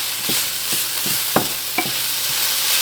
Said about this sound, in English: we're just gonna add in the sausage, and then I'm gonna give it another good stir